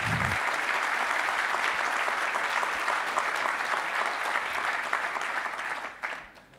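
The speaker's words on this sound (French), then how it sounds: "on les applaudit" Sustained applause from a conference audience at a Brittany business event, dense and steady, fading out over the final second.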